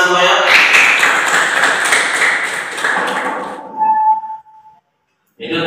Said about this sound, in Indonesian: Tepuk tangan dulu buat Dimas semuanya.